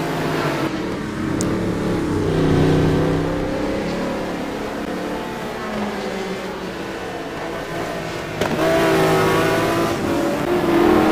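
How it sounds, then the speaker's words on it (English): A McLaren F1 GT1 race car in a racing video game at Sebring revs and accelerates, its engine note rising and falling through gear changes, loud and continuous with no voices. "Aaron Parsons out in front. McLaren F1."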